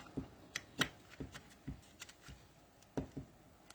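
A bone folder shapes and creases paper into a small star-shaped treat box, making faint, close, irregular clicks and soft paper rustles with no voices.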